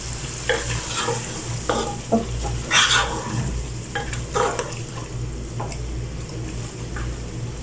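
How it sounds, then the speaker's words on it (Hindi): Masala with tomato paste stirred in a hot pan for murgh cholay, sizzling continuously while a spoon scrapes and clinks in uneven strokes, close and fairly loud. "करने के बाद इसको अच्छे से हिला देंगे।"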